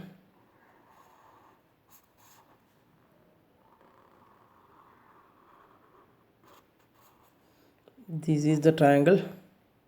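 Pen drawing a triangle on paper, with soft, faint scratchy strokes heard up close, then a louder voice cuts in at the end.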